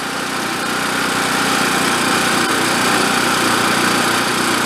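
An old portable generator engine runs steadily without its air cleaner, a constant moderately loud buzzing drone with no pauses and no talking.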